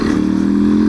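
A Honda XRE 190 motorcycle fitted with a BMW 310 exhaust holds a loud, steady, buzzing rev up close for about a second.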